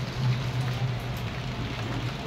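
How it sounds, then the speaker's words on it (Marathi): Steady rain falls in a soft, even hiss, fairly quiet and unbroken, with no voices. "आता पाऊस आलाय"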